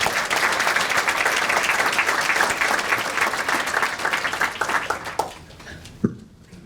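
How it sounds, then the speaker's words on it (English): Room of attendees at Glenview's State of the Village 2023 applauds business owners, loud dense clapping that holds steady, then thins and fades out near the end. "Round of applause, please."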